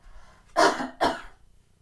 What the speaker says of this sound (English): you might like a little cough.